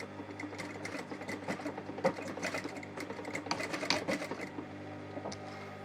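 Sewing machine stitching a seam on a soft box scatter cushion with an invisible zip, a steady close-up mechanical whir with rapid needle ticking running continuously throughout.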